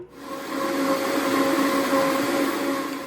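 A blender pulverizes whole raw eggs, shells included, into powder for dog food: a steady, loud whirring motor drone with a grinding hum, running continuously and close up with no talking.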